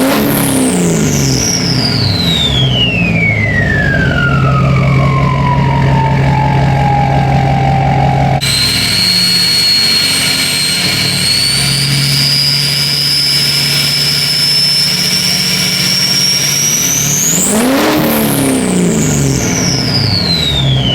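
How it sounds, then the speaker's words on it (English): A Duramax diesel truck with a 9-blade turbo revs hard and close. A loud turbo whine sweeps down, then climbs steadily through a long rev, drops sharply and rises again over the deep engine roar. "So let's go ahead and rev it up"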